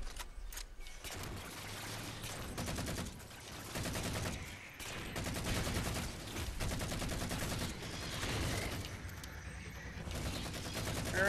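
Rapid bursts of automatic gunfire from the Halo 4 video game on Legendary difficulty, dense and continuous with layered shots and short gaps, loud throughout.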